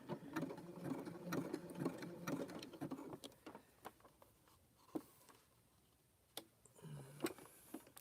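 Sewing machine back stitching through rope and fabric, its motor whirring steadily for a few seconds and then easing into quieter, scattered ticks and clicks.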